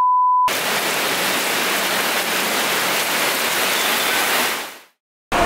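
Heavy rain pours down as a dense, steady hiss, loud and unbroken for several seconds after a brief beep, then stops abruptly.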